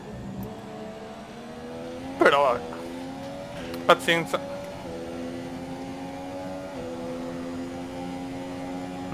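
A Formula 1 car engine in the video game F1 2017, at the Baku race with a heavily worn engine, hums at a steady pitch with brief higher revs, under someone talking.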